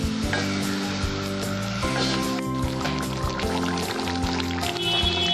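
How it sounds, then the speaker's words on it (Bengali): Water goes into a sizzling egg masala curry in a pan, a hiss and gentle pouring splash that stays steady under sustained background music. "এবার তার মধ্যে জল দেবো"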